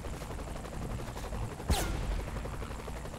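Gunfire in the video game Saints Row The Third: a sharp, loud shot cracks once near the middle over a busy, rumbling game soundscape, with no talk in the moment.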